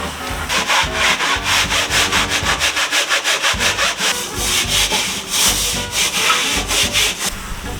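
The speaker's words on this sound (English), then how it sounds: "we're gonna wash this boat" Steady back-and-forth scrubbing strokes, loud and close, rubbing rhythmically against a boat's hard surface while washing it, with no talking.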